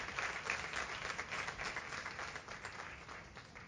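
A church congregation breaks into sustained applause during a sermon, a dense, even patter of many hands, moderately loud and easing slightly toward the end.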